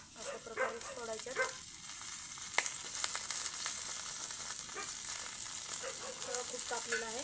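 Chilapi (tilapia) fish frying in oil on a flat tawa, a steady close sizzle with soft crackles running throughout, plus a sharp clatter near the middle and a brief moment of speech.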